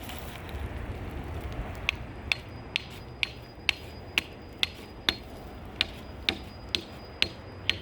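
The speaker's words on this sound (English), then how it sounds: "The hammer's got a nice ping to it." A metal ping hammer drives stakes into the ground for a school's raised garden bed. About a dozen sharp, ringing strikes land at a steady, fairly quick pace, clear and close against quiet outdoor background.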